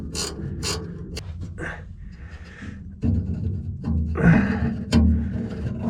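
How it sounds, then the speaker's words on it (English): A bolt is worked out of an old Buffalo Forge, giving close metallic clicks, ratcheting scrapes and creaks in irregular bursts with short pauses between. "Support it with one hand, take the bolt out with the other."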